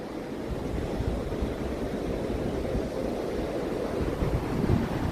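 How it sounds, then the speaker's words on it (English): Ocean waves wash continuously onto a sandy beach, a broad steady roar of surf close by with mild wind buffeting and no voices. "ah, sound of waves, love it."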